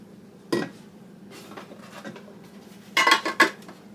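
A bread pan and dishes are handled while a hutch is decluttered: one sharp clank, a few soft knocks, then a quick burst of nearby clinks and rattles near the end.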